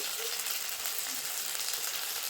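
Ginger-garlic paste with ground cumin, coriander and dried chilli paste frying in a pan for a Bengali fish curry, a steady bright sizzle throughout with no break.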